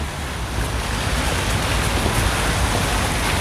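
A fountain in Stockholm gives a steady, dense rush of splashing water, loud and close. The hiss is continuous with no breaks, and wind noise may be mixed in.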